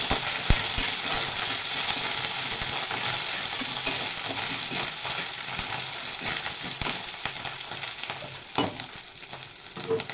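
Cashews and raisins frying in oil give a continuous, close sizzle with scattered stirring clicks and scrapes, loud and steady throughout, and no voices.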